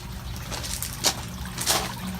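Water trickles and splashes through an aquaponic system, a steady wet background wash with two brighter splashy bursts standing out, with no talking.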